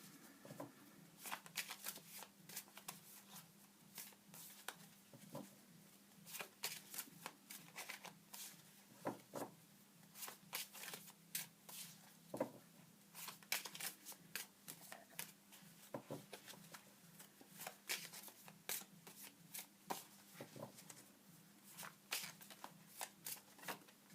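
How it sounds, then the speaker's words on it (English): Cards being shuffled by hand in quick repeated bursts of papery flicks and taps, steady and close, with no talking. "I'm just going to shuffle the deck."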